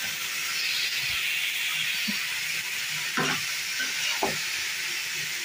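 Cabbage frying with small shrimp and spices in a pan, a steady close sizzle and hiss with a few soft scraping stirs of a spatula breaking through near the middle.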